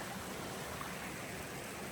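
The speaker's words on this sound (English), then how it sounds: "A stream feeding in right here." Water in a stream running steadily beside a damp Appalachian Trail path after overnight rain, a constant close rushing flow with no breaks and no voices.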